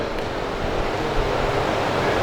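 Loud, steady whooshing roar of air coolers running in a hall, a constant broadband rush with a low rumble, no speech on top.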